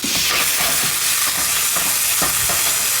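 Onions fry and sizzle in a pan on a charcoal barbecue, with a steady loud hiss broken by repeated scrapes and clatters of stirring.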